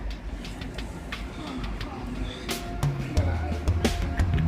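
Green Line train rolling along rails, a loud steady rumble with low mechanical hum, clicks and rattles from inside the car, rising toward the end.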